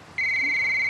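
A telephone rings with a steady electronic tone starting a moment in and holding loud and close to the end, with no talk over it.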